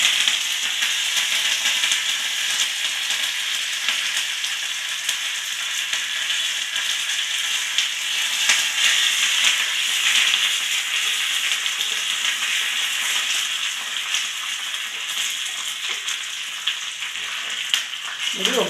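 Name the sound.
tempering frying urad dal, dried red chillies and curry leaves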